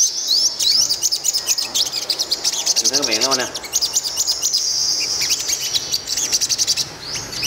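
A yellow-bellied sunbird chirps in quick, high, repeated notes throughout, close and lively, while someone speaks briefly over it.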